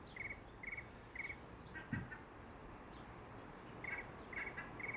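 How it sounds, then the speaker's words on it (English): Outdoors in the evening, crickets give faint, regular chirp bursts in groups of two or three, with a short soft knock in between and a hushed, still background. "Great, we've got crickets here."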